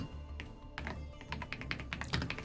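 Computer keyboard keys clacking in quick irregular bursts, close and fairly quiet, with a faint low hum underneath.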